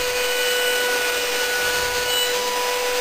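A CNC router runs a 45-degree cutter around the edge of a wooden workpiece, cutting a bevel while clearing away ragged edge material; a loud, steady machine whine and grinding roar with sustained tones holds throughout, with no voices.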